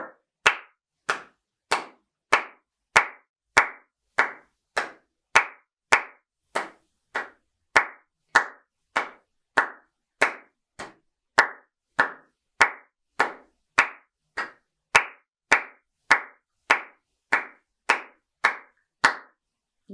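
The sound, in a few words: hand clapping along to a saxophone practice part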